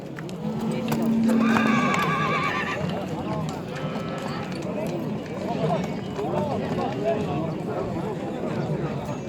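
Horses at a busy livestock market in Özgön whinny loudly near the start, with hooves clip-clopping and people chattering in the background.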